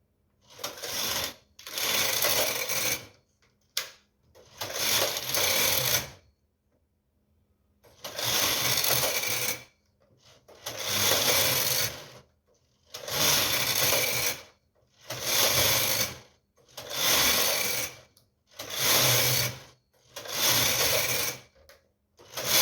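A knitting machine knits rows of a tuck pattern for a baby set, the carriage sweeping across in repeated loud rattling passes about every two seconds with brief gaps between rows.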